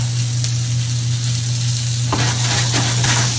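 Food for Egyptian koshary sizzles steadily in hot oil while being stirred, a loud continuous frying hiss with scraping stir strokes near the end and no voices.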